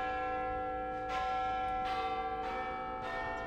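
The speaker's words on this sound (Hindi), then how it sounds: "वो घंटी बज रही है" A Big Ben clock-tower bell tolls in Minecraft, loud and resonant, with repeated strikes about every half second to second over a sustained ringing drone and no talk.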